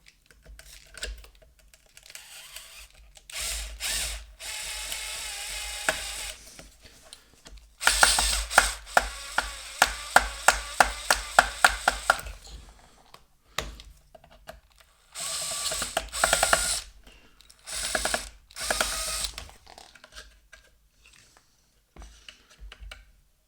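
Work on a screw in a Bang & Olufsen Beolab 14 subwoofer produces loud, close bursts of rapid ratcheting clicks from a screwdriver, repeated in several runs with quiet gaps between them.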